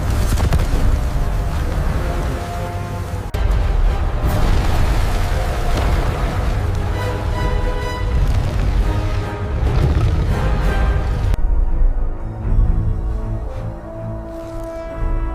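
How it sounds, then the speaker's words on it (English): A huge energy blast tears through a giant ant army in a loud, continuous roaring explosion, dense rumbling booms layered with dramatic music, then thinning toward the end. "A terrifying energy blast from the device on the giant's body destroyed most of the ant army"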